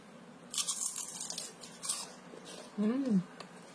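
Crisp crunching bites into a crunchy homemade Lebaran cookie, followed by a few soft chews, close and fairly quiet, with a brief voiced hum near the end.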